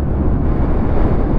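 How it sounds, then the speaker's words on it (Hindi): Strong wind buffets the microphone of a motorcycle rider on the mountain road to Chitral, near Booni in northern Pakistan. A loud, continuous low roar and rumble runs without a break, with no voices. "इतनी तेज हवा यहाँ पे"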